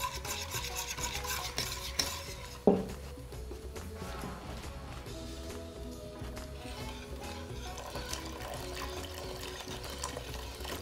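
A spoon scrapes and rubs through a pot of meatball yogurt soup (tanapur) as it is stirred, a faint continuous rasping with one sharper knock partway through, set against a low background hum.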